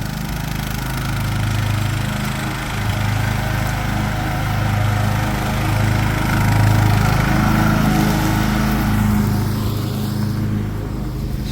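A lawn mower engine runs steadily during mowing on a rural property, a continuous mid-pitched drone that holds fairly level and close throughout with no talk over it.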